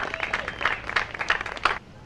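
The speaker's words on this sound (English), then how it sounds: "If you could give them a round warm of applause." Audience applause at a summer park concert, a brief burst of scattered, moderately loud clapping from an outdoor crowd that fades out near the end.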